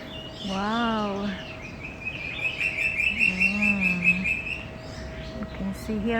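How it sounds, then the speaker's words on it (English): Many birds chirp and sing around a bird tower, bright repeated tweets and longer warbling calls layered together at close range, steady through the whole stretch with a faint background hum. "You can see here a lot of birds, kinds of birds."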